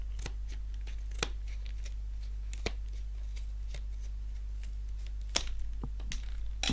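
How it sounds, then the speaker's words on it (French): A Pokémon XY trading card deck box is opened by hand, giving sharp cardboard clicks and snaps spread irregularly over a quiet, steady hum, close and fairly faint. "maintenant on va ouvrir les decks"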